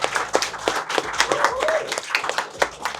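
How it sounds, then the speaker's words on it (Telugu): Audience clapping for contestants lined up on a studio game show, a burst of many hands with sharp irregular claps, fairly close and lively, with some voices mixed in. "రెండు క్లాప్స్ కొట్టండి అందరికి."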